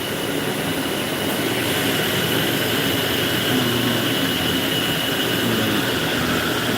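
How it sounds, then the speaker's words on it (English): A grinder shapes the profile and bevel of a knife forged from a horseshoe, giving a steady, loud, unbroken rasping hiss that holds level throughout with no pauses and no voices. "just going to grind the profile and grind the bevel"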